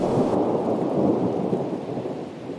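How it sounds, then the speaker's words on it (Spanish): Heavy rain pours steadily over a wet street, with a deep rumble of thunder rolling underneath, loud and continuous throughout with no voices. "Vaya día, llueve muchísimo."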